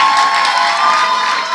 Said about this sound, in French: est-ce qu'on peut encore applaudir, s'il vous plaît?